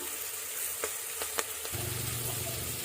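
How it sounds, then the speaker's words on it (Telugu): Green chillies frying in oil, a steady close sizzle with a few sharp clicks of a stirring spoon in the middle. "పచ్చిమిర్చి అంతా బాగా నూనెలో మగ్గాయండి"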